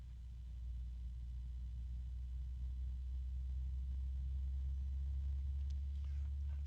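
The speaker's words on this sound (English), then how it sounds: "Currently got just this one fan running, and it's at the slowest speed I can get it to go to." A single fan on an Arctic Liquid Freezer III 360 AIO cooler hums steadily at its slowest speed, a low continuous drone with faint higher resonant tones, close and quiet, with no talking.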